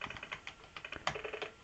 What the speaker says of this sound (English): Pressed every key on the keyboard.